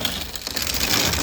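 Victoria hand grain grinder cranked clockwise: a steady, dense grinding and crunching rasp that runs continuously and evenly, close to the listener with no pauses or voices.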